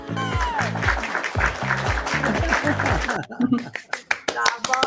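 Applause with hands clapping at a steady beat, close, while several people talk and cheer over it; it breaks down into scattered single claps at the end.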